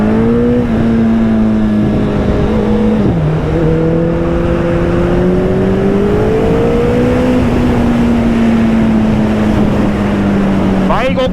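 A car's engine runs steadily on its final test drive, a loud, close droning hum whose pitch rises and dips with small changes in speed.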